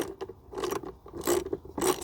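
A ratchet socket wrench with a 15mm socket loosens the battery terminal nut on a Ford Ranger T6, giving a few close, rapid clicking ratchet strokes in quick succession.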